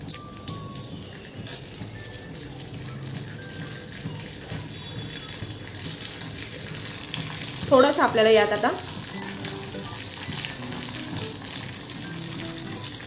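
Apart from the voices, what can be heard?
oil tempering sizzling with mustard seeds, green chilli, curry leaves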